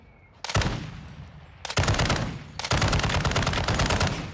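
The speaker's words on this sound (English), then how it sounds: "this gun has to be the loudest gun" Rapid bursts of gunfire from a pistol in a video game set on Ashika Island, loud and close, in three sustained volleys separated by brief pauses, with no talking.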